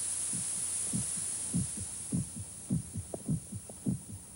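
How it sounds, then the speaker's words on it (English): Heart pounding against the ribs, a steady run of about seven deep, muffled lub-dub thumps at a slow resting pace, close and low over a faint high hiss. "The sound of the heart pounding against the ribs."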